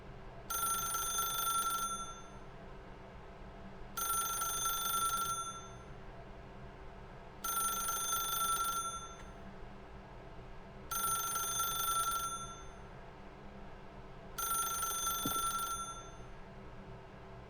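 A telephone rings in The Stanley Parable: Ultra Deluxe, five evenly spaced bursts of bright electronic ringing with pauses between them over a low steady hum, no voices.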